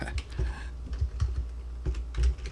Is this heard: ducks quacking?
no